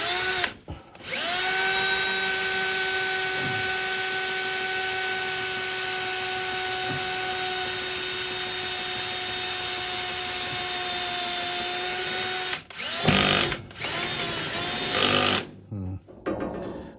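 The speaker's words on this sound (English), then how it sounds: "turn the drill down on low and get a pilot started" A power drill on low speed whirs steadily at close range for a long stretch drilling a pilot hole in a Ford F100 bulkhead, then stops and starts in short bursts near the end.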